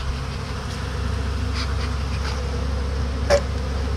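Honeybees buzzing steadily at a hive during a colony merge, a constant close hum with individual bees briefly flying nearer past the ear.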